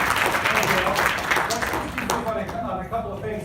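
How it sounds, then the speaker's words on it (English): Audience applause at a marketing summit presentation, moderately loud clapping that tapers off partway through as a voice takes over. "give him a round of applause."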